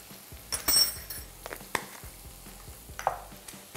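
Lamb being sautéed with cinnamon and red pepper flakes in a pan, a low sizzle under scattered clinks and scrapes of a utensil stirring against the metal.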